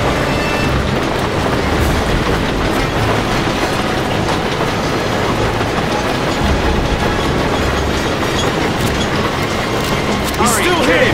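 Train running in the James Bond video game Quantum of Solace, a loud, steady rumble with rhythmic clickety-clack and metallic rattling throughout, mixed with other game noise.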